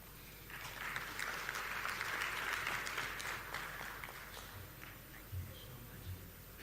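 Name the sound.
audience applause for the professor's speech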